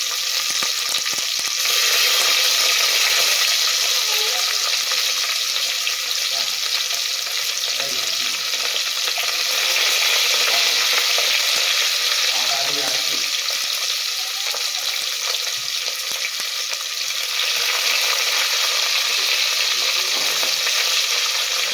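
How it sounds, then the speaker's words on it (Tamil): Onions fry with whole spices and garam masala in a pot for veg biryani, a loud, continuous hiss of sizzling oil close by with occasional stirring scrapes and no talking. "வெங்காயம் நல்லா வதங்கட்டும் கலந்து விடலாம் வெங்காயம் பொன்னிறமாக வதங்கணும்"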